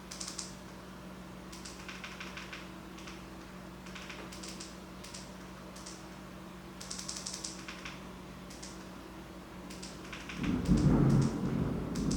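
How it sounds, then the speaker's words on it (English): A thunderstorm rumbles outside, heard faintly from indoors, with rain and scattered tapping over a low hum, ending in a louder, close crackling roll of thunder. "Y'all hear that thunderstorm outside?"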